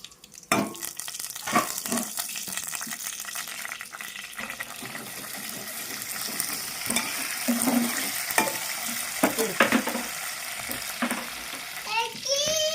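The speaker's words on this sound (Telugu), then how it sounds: "ఒట్టి మిర్చి, 1/2 స్పూన్ ఆవాలు, 1/2 స్పూన్ జీలకర్ర, కరివేపాకు ఇవి వేయాలి ఆయిల్లో." Dry red chillies, mustard seeds, cumin and curry leaves hit hot oil, giving a continuous crackling sizzle with spoon clinks and scrapes; a voice chirps briefly near the end.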